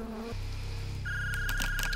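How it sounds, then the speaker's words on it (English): Inside a video game, a telephone rings with a buzzing electronic trill that starts after a brief hum and repeats in short, steady bursts, heard clearly with no talking. "Phone rings."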